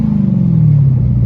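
An 840 hp Dodge Demon engine idles through its exhaust in a loud, deep, steady rumble with a low throb, heard close and alone.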